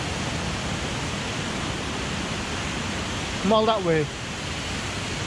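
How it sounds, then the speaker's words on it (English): Waterfall running full after rain on a wet day in Yorkshire, a steady broad rushing roar of falling water throughout, with a brief voice speaking over it near the end. "to see the waterfall. You know, a lot more water in it,"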